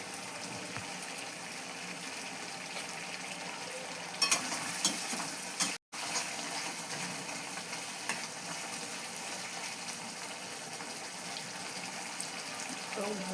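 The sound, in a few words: chicken curry masala being sautéed in a pan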